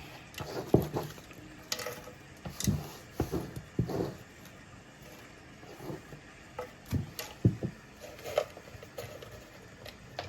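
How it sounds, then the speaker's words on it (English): Soft, irregular papery rustles and taps of tarot cards being shuffled close by, quiet bursts with brief pauses between them. "Give this a nice shuffle."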